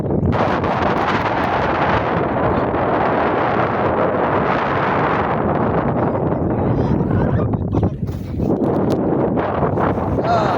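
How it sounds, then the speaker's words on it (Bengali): Heavy wind blasts across a fishing boat on a river, a loud steady roar buffeting the microphone that dips briefly before surging back. "বাতাসে প্রচুর বাতাস।"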